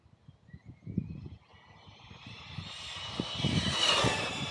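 A fast R/C car's motor runs at speed, its rough low drone building into a loud, rising high-pitched whine as it rips past, close and growing louder toward the end with no talking.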